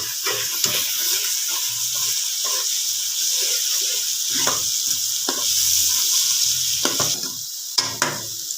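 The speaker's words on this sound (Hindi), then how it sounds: "तो इसको मैं इतना भूनती हूँ ताकि थोड़ा सा इसका जो कच्चा पानी है वो ख़त्म हो जाए।" Onions fry with garlic-ginger paste in a pan, giving a steady bright sizzle and hiss, broken by repeated scraping and stirring strokes of a spoon at close range.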